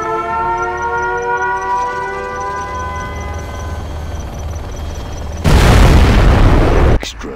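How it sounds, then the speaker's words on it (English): A nuclear missile launch and explosion in the real-time strategy game Command & Conquer: Red Alert 3, with a rising siren-like tone that gives way to a loud, roaring blast near the end before cutting off abruptly. "We have launched our nuclear missile."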